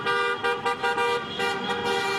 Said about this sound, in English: holding signs and honking horns outside the Capitol to demand that Governor Wolf lift the stay-at-home order